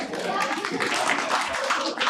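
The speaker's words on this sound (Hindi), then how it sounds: "जोरदार तालियां।" Audience at a literature fest open mic breaks into clapping, a brief scattered patter of hands heard mixed with crowd voices and chatter.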